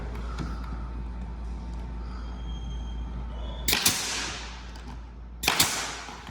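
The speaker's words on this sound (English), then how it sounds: "we're going to put a staple low and one high, and then again on this corner here" A staple gun fires into baseboard trim during home carpet and trim installation, giving two sharp, separate snaps a couple of seconds apart over a low background hum.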